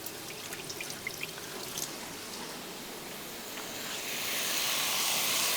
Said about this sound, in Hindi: अब चावलों में से मैं एक्सेस पानी निकाल दूं।